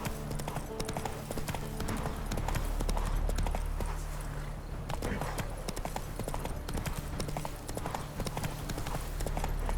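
Roach the horse from The Witcher 3 clip-clops steadily at a walking pace, hooves striking in a close, regular rhythm over low ambient game music.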